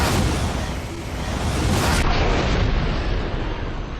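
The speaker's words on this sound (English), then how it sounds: "Now for the next grenade, the shock grenade. A hand grenade that releases a high voltage electric shock." A shock grenade from the Resident Evil: Revelations video game goes off in one loud, sustained crackling burst, a dense wash of noise that rumbles on for several seconds with no voices over it.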